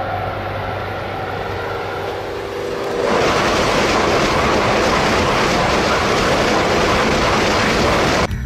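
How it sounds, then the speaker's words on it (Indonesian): A toy high-speed train's smooth electric whir rises abruptly into a steady, loud rushing hum like a speeding train, holding constant until it cuts off. "Wah, ada kereta cepat."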